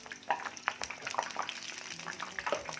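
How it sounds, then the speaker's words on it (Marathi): Medu vada frying in hot oil, a steady close crackle and sizzle with small popping bubbles throughout. "हे दोन्ही साईडने छान असे रंग बदलेपर्यंत भाजून घ्यायचे सोनेरी रंगावर"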